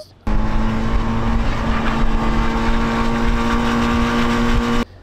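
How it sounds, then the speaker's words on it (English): A 2020 Honda Fireblade SP engine sucks air into the airbox as a steady, loud, buzzing intake roar with a droning tone. It holds evenly for about four and a half seconds, then stops sharply. "You can hear it gobbling up all that air into the airbox."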